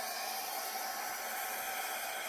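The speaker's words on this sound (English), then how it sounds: "Make sure you have your angle of your hairbrush or your blow dryer." A blow dryer runs steadily, pushing acrylic paint around in a rainbow infinity pour, a continuous close airy hiss that stays even throughout with no talking.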